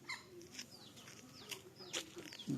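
Chickens cluck and call in short, scattered bursts, with a few rising squawks, fairly faint and with no talk.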